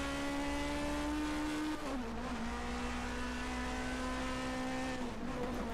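A 1979 DRM Division 2 race car accelerating at the Norisring street circuit, its engine roaring loud and close with a sustained rising tone, a brief dip for a gear change, then climbing again.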